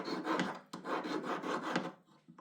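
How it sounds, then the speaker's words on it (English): A metal file rasps back and forth over the cut edge of sterling silver wire in steady repeated strokes, close and fairly loud, with brief pauses between passes before it fades. "Move the file back and forth while rotating the wire to help round the edges."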